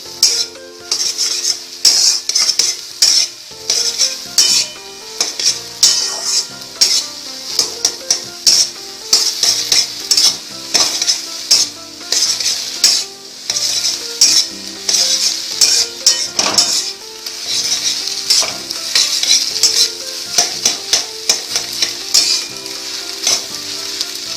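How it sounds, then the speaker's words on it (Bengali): Beaten egg frying in a pan for a tadka dish, with a loud, steady sizzle throughout and frequent scraping and clinking of a utensil stirring it against the pan, no voices. "যত ডিমটা ঘন হবে তত বেশি করে নাড়বেন"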